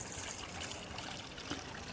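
Quiet, steady trickle of water flowing back from an aquaponic bioreactor in a grow system built from recycled containers, a continuous soft dribbling with no voices.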